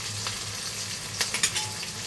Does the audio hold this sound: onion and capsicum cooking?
yes